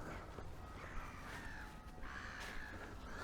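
Several birds call faintly in the distance along a river at Manor Park Country Park, West Malling, crow-like caws repeating over a soft outdoor background.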